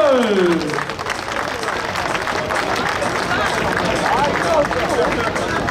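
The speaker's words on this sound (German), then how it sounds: "Habt ihr einen riesen Applaus für Toni de Jong von De Jong Special?" An outdoor crowd at a tractor pulling event in Sonsbeck claps and cheers in a continuous wash of applause, with a fading engine whine at the start and voices mixed in.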